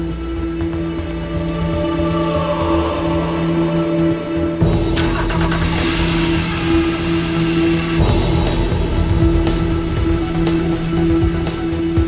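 A Porsche 911 flat-six engine runs on a factory hot test stand, fueled and fired, giving a steady loud mechanical drone with a constant hum that thickens into broadband roar partway through.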